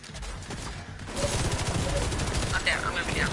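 Rapid bursts of gunfire from The Division 2 crackle through a tense firefight. The shots are quieter at first, then swell into dense, loud, overlapping volleys that continue under a player's voice.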